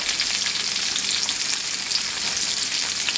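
Onions sizzling with salt in a hot pan as chicken and gravy is cooked, a continuous bright crackle and hiss at moderate level, with no voices over it.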